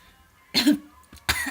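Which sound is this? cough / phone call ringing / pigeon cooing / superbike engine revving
cough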